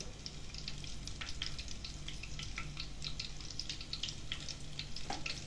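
Fish meatball skewers, Palembang-style sate pentol ikan, fry steadily in hot oil, a close, continuous sizzle with scattered bright pops and crackles and no talking.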